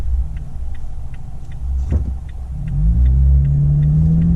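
A Toyota Tacoma in sport mode pulls away from a stop, its engine a low idle rumble that swells into a rising, revving drone as it accelerates, while a steady ticking repeats in the cabin.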